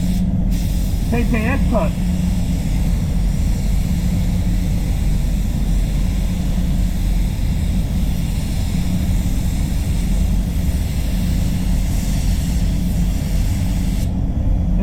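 A spray gun applies basecoat paint thinned with extra reducer onto a Mercedes C200, giving a steady, loud hiss with no breaks across the whole stretch; a brief spoken phrase sits near the start.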